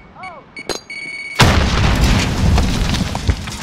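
A frag grenade explodes in the Call of Duty: Modern Warfare video game, a sudden loud boom that gives way to a dense, sustained roar of debris and rumble after a few brief electronic beeps and clicks.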